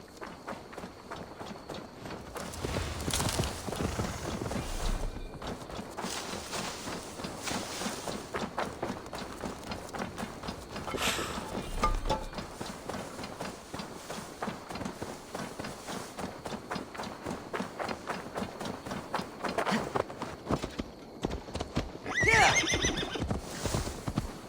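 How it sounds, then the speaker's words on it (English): Horse galloping and neighing in Assassin's Creed Valhalla, a steady run of hoofbeats with whinnies rising over game music and ambience, fairly loud and continuous throughout. "Now to deliver Magni his horse."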